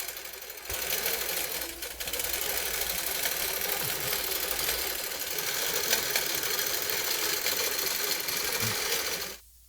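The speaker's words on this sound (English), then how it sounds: "Now it's sewing across, in essence, across our quilt from left to right." An automated quilting machine runs steadily as it stitches across a quilt from left to right, giving a loud, continuous mechanical hum and rapid needle chatter for nearly the whole stretch before it abruptly stops.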